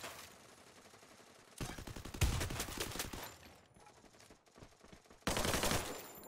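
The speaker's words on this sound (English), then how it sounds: "We're getting shot at from the sky." Rapid bursts of automatic gunfire in the Free Fire battle royale game, loud sustained volleys starting and stopping in several clusters, with a heavy impact among them.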